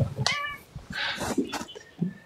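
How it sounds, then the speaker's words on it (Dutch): A hungry house cat meows for food, giving several close, insistent cries in quick succession against a soft room background, with no talking. "Ik heb hier een vraag van mijn kat Poppy die heel graag eten wil"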